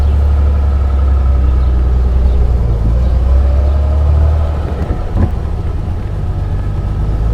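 A 1955 Mercedes 300 SL's engine drones steadily while the car is driven, a continuous low rumble with a brief shift in tone partway through.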